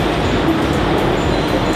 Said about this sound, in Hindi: तो फिलहाल हम लोग मेट्रो में सफ़र कर रहे हैं